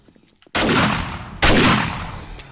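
Two loud gunshot blasts, each followed by a long decaying echo, fired at a bear in the survival video game 7 Days to Die.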